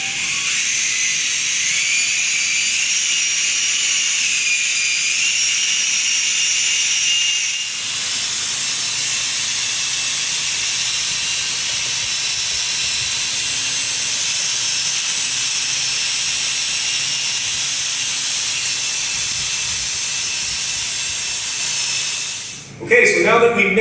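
Epoxy floor coating being mixed with a power mixer, a steady high-pitched whirring hiss running continuously and close, briefly dipping and shifting partway through before cutting out near the end.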